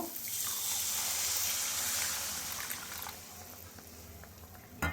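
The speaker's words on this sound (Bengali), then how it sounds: "এবার আমি পরিমাণ মতো জল দিয়ে দেব।" Water is poured into a pan of fried, oil-releasing masala for a brinjal (eggplant) curry, giving a steady close splashing, gushing stream that tapers off in the second half, with no talking.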